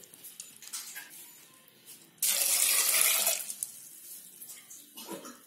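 Water pours into a pot of rock sugar for rose syrup, a steady splashing rush of about a second after quieter kitchen handling, then settling back to small clinks.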